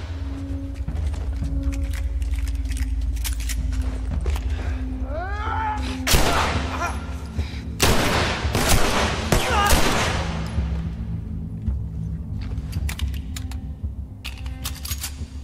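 Rifle shots in The Last of Us, several sharp loud bangs in an irregular burst around the middle, each with a short ringing tail, over a low ambient hum with scattered faint clicks and brief voice-like sounds.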